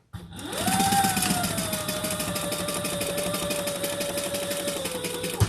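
An industrial sewing machine with a zipper foot stitches a taped leather crossbody bag with Tech 70 thread, giving a steady, close whirring drone that runs unbroken for several seconds before stopping with a small clunk.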